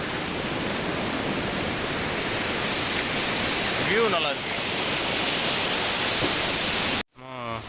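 Sea waves at Varkala beach wash in a steady, broad roar that fills the whole stretch on a hot, partly cloudy day, with a person talking briefly in the middle and again at the end.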